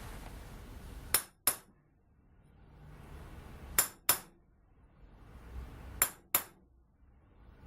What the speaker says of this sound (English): So I need to finish centre punching those.